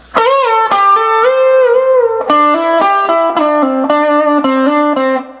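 An electric guitar plays a distorted solo phrase of bent and sustained notes, starting with a long held bend, then a quicker run of picked notes. Loud and close.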